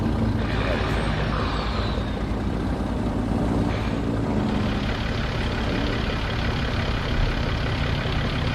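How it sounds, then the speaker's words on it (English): Heavy truck engine rumbling steadily on the road in American Truck Simulator, the roar coming from a truck just ahead rather than the player's own rig, loud and continuous throughout. "That's really loud, and I don't think that's my truck that's making that noise. I think it's that truck up ahead."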